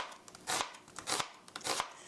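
Knife slicing onion thinly on a cutting board, three crisp cutting strokes in an even rhythm, close but quiet.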